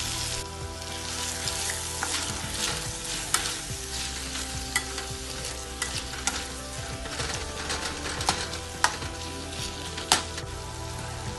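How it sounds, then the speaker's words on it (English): Spiced beef fries on low heat in a pan, making a continuous, soft crackling sizzle with scattered sharper pops and stirring scrapes, with no talking. "Fry this on low heat till the beef is browned well."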